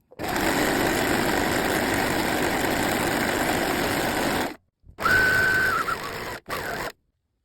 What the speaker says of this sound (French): vous allez coudre à 1 cm du bord et moi, j'ai fait toujours au triple point élastique